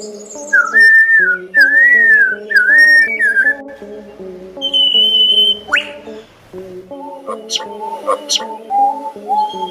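A lyrebird mimics sounds it has picked up, giving repeated whistled phrases and varied electronic-like calls in short bursts that run on and off for the length of the recording, with soft chirps and a mechanical-sounding layer mixed in.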